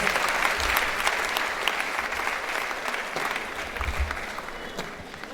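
An audience of new students at a university orientation programme claps steadily and densely throughout, filling the room with continuous applause.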